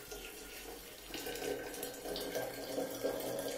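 Water pours steadily over beans in a clay pot for a Turkish bean dish, a continuous splashing gush that grows slightly fuller partway through, close and moderately loud.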